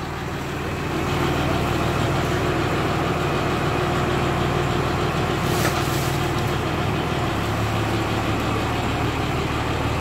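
A powerful farm tractor engine runs steadily at idle beside an onion field in Spain during truck loading, a constant low diesel rumble that stays loud and even throughout with no talking.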